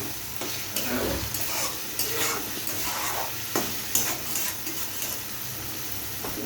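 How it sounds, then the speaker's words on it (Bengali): Duck eggs sautéed and stirred in a pan of curry, a steady sizzle with repeated scraping strokes of a spoon at roughly even intervals, close and clear with no talking. "ডিম দিয়ে একটু কষিয়ে নেবো খানিক্ষণ তারপর নামিয়ে দেবো"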